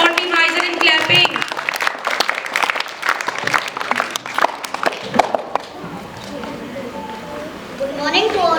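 A room of children at a school poem recitation competition claps in a quick, uneven burst, with a voice speaking over it before the clapping dies away and talk continues.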